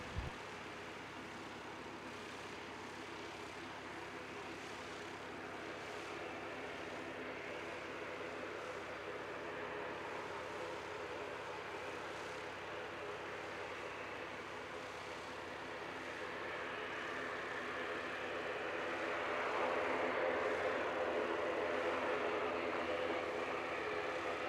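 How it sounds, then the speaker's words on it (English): An ATR turboprop airliner taxis out at Christchurch International Airport, a steady distant engine drone that slowly swells louder toward the end, with no talk. "Another ATR coming out."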